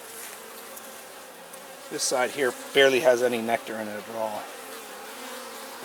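Honeybees buzzing around a hive being robbed by yellowjackets during an inspection, a low, steady hum sitting beneath a man's close, clear talking for the whole stretch.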